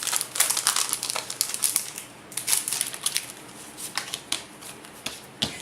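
Thin paper quote cards from a planner subscription box are shuffled and handled up close, giving a run of crisp rustles, flicks and soft crinkles with brief pauses in between.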